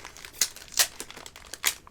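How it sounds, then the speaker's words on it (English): Strips of adhesive tape pulled off a roll in three sharp, close rips to seal a container shut, with faint crinkling between them. "I'm gonna sit here on camera and tape this shut."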